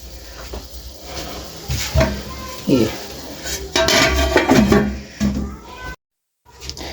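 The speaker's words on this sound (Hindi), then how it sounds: "ये देखिए हम ढकना हटा रहे हैं" A lid is lifted off a cooking pot of desi chicken curry after about an hour on low heat, with a couple of metallic clanks and scrapes close by while someone talks.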